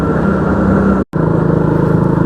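A motorcycle engine labours in second gear on an uphill stretch, a steady loud drone with a low harmonic hum, briefly cutting out for a moment before resuming just as strong.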